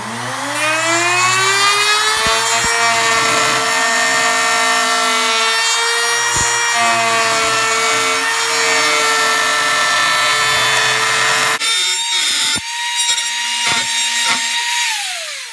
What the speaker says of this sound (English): I have successfully routed every single one of my pieces for both sides.